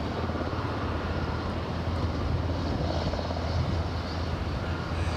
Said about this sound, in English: So there's a couple of choppers about to go, possibly 3, all different points.